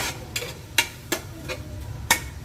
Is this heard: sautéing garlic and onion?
yes